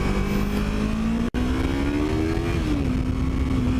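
A Yamaha R3 motorcycle engine drones steadily and loudly while riding, with a brief cut in power and its pitch shifting as the rider downshifts.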